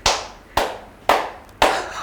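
A single person claps hands four times in a slow, evenly spaced rhythm, each clap sharp and close, ringing briefly in a quiet room during a high-school English class session.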